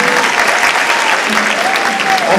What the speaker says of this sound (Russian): Это отдельные аплодисменты.